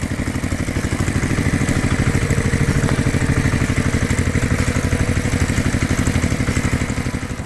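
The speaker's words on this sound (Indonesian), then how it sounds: "Suara mesin menggelegar, menghidupkan kebun yang damai." A red tractor engine roars in a steady, loud, rapidly throbbing drone, close by and unbroken throughout.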